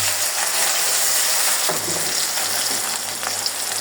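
Onion, tomato and green chilli hitting hot oil give a steady, dense sizzle from start to finish, close and loud, with faint scraping or clicking from the pan partway through.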